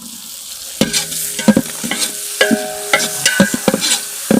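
Chopped tomatoes sizzle in a pan while a spoon stirs and scrapes in repeated clacking strokes, close and fairly loud, with no voices.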